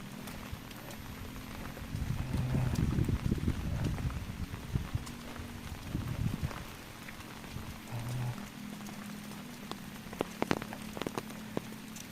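Light rain patters on surfaces around a village, a soft steady wash with scattered drops, heavier early then thinning out, with faint clip-clop sounds passing.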